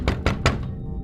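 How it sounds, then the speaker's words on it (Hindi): Three heavy knocks on a door in quick succession, dull and close, each thud ringing briefly before fading into quiet. "अचानक उसे खटखटाने की आवाज सुनाई थी।"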